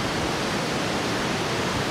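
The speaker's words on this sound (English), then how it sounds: "you can reach this beautiful waterfall" Lattefoss, a twin waterfall in Norway's Odda Valley, produces a dense, steady roar of falling water, loud and unbroken throughout.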